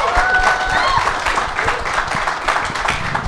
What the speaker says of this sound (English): How about a round of applause tonight for MVS and Yosh Nijman?